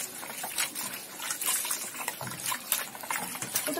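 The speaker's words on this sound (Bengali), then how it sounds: "ভালো করে কষলে ধুয়ে নেবো এবার।" Bottle gourd leaves being washed in water, with close, busy splashing and trickling as hands work the leaves, and no pause throughout.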